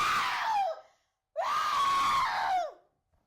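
A woman's high, sustained scream rings out twice, the first burst shorter, then a brief silence before a longer, loud wail that falls in pitch and fades.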